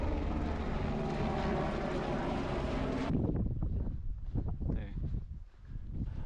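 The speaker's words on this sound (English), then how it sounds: "we saw a helicopter." A loud, steady helicopter engine roar with a droning whir fills the first half, then cuts to gusty wind rumble and scattered noise, on a mountain trail in Tongariro National Park, New Zealand.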